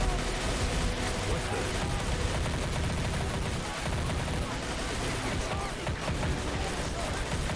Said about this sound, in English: this amount of guns all aimed at one of these obsidian soldiers or spiders is quite a lot of firepower